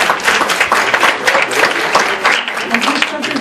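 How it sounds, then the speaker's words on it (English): Audience applause at a Thanksgiving gathering held by a pluralism center, a dense and steady wash of clapping lasting throughout, with voices mixed in. "Let's give a round of applause."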